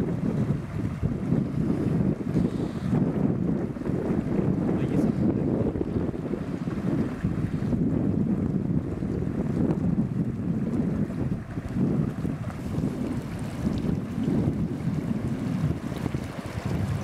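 Strong wind buffets continuously with gusty low rumbling, mixed with the wash of water and waves, loud and close throughout with no voices, in the mountains of Vanoise National Park.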